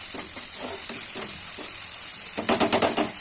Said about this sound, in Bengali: জল দেওয়ার পরে আমি একটু কষিয়ে নিলাম মশলাটাকে।